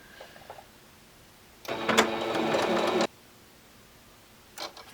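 A sewing machine runs a wide zigzag stitch along the edge of a satchel handbag pocket, a single rapid mechanical whirring burst of about a second and a half, with faint brief machine noises before and after.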